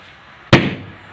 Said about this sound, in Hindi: अभी थोड़ा बहुत पटाखे फोड़ता हूँ